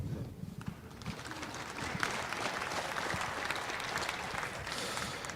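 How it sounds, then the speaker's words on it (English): Applause for junior showmen at a 4-H club beef and sheep show, a crowd clapping steadily and fairly loudly throughout, with scattered individual claps standing out near the start. "So, a round of applause."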